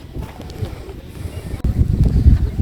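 Strong wind on a green hilltop buffets the microphone with a low, rumbling roar that gusts harder toward the end.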